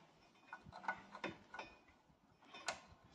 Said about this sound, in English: So basically what we're gonna do is put back these bolts in here.